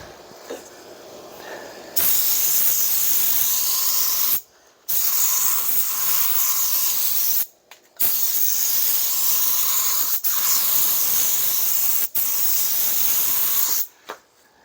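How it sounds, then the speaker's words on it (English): Spray gun laying a first coat of clear over a truck passenger door, loud steady hissing bursts in long passes, cut by brief pauses between strokes, close up with no talk. "first coat of clear is down"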